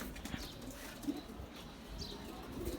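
Pet pigeons coo softly in a home coop on a balcony, faint low murmurs under a quiet background hiss with a few light rustles.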